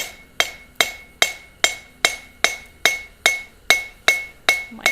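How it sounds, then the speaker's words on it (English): A blacksmith's anvil resting on a rubber mat is tapped about a dozen times in an even rhythm, each close, bright ringing strike decaying before the next. "So this is his anvil."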